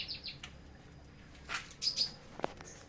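A caged canary at home gives a few short, bright chirps and tweets, sparse and close, separated by quiet gaps.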